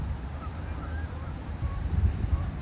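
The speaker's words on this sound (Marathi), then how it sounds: "तिकडे हे गूज म्हणून पक्षी आहेत, ते बसलेले आहेत आणि मी जाते म्हणून ते आता उडत आहेत एक एक" Geese honking a few times, at moderate distance and faint, as they lift off one by one from the edge of a pond in autumn, over a low wind-like rumble.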